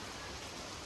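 Steady rain falls outdoors in a brief, continuous hiss, with no voices and no distinct drops.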